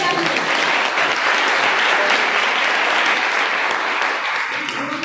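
Audience at a college poetry recitation bursts into dense, continuous applause, loud and full throughout and gradually easing near the end.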